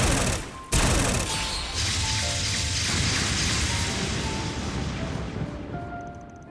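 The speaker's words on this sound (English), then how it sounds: "an enhanced needle gun" An enhanced needle gun fires in the video game Trails Beyond the Horizon, a dense, continuous rattling volley like hard rain, loud and sustained after a brief sharp opening burst, with faint tonal game sounds underneath.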